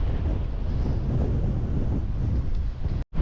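Strong wind gusts buffet the microphone at Maringo Beach on the NSW South Coast, a loud, steady roar of rumbling buffeting that continues throughout and drops out briefly near the end.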